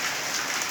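Heavy rain pours down in a dense, steady hiss with no pauses, loud and close.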